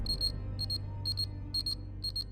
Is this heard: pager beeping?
yes